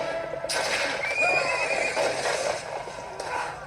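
A horse lets out a long, shrill whinny that rises and wavers over a couple of seconds, heard over a busy background.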